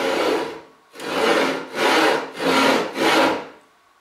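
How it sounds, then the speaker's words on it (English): A western back saw cuts into wood on the forward stroke, giving five rhythmic rasping strokes with short pauses between them, close and fairly loud, with no voices. "to make the cut, we've drawn back with the saw to establish a little kerf. Then we can cut on the forward stroke"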